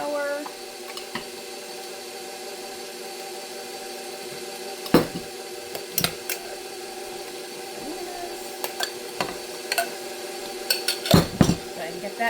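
A spoon works flour into banana cake batter in a bowl, with soft scraping strokes and a few sharp clinks against the bowl over a steady background hum, close and without talk.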